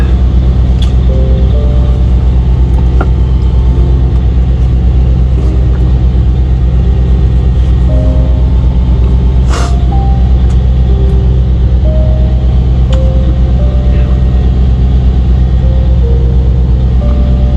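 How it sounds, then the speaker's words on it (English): A loud truck idles right beside a parked truck, giving a steady, heavy low rumble that runs unbroken throughout, with faint higher whines and clicks drifting over it and no talking. "There's a trucks next to me. It's kind of loud"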